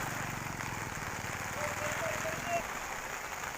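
Rain falls on a flooded street near a school, a soft, distant hiss of drops on water and pavement with a faint low rumble beneath, fairly quiet and even, with no clear voices.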